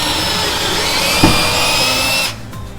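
A drill gun boring a hole for a garage door shelf, a loud, close, steady whine with a brief bump as it bites, then cutting off near the end.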